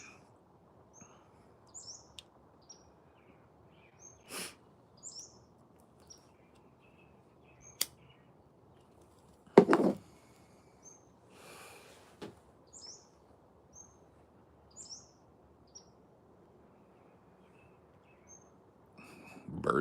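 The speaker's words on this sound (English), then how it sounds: "Birds are singing something fierce today." Scattered bird chirps and short calls, mostly faint and distant, spread across a quiet outdoor background, with a few sharper, nearer sounds standing out among them.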